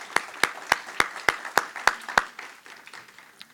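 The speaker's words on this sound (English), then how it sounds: "Please join me in welcoming him with a round of applause." Sparse, slow hand claps from an audience at a university lecture, roughly a dozen sharp, evenly spaced claps that thin out and fade toward the end.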